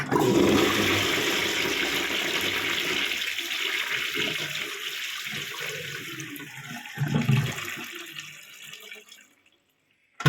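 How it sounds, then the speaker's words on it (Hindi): Water rushes out of a concealed toilet cistern being drained during a repair, a loud, steady flush that gurgles and tapers off into silence near the end. "तो अभी हमने सिस्टम के अंदर का पानी पूरा की पूरा ड्रेन कर लिया।"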